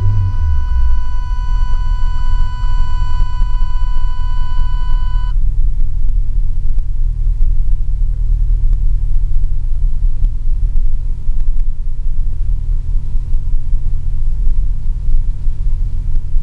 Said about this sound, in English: Here's a quick video to show you the cold starting of the car.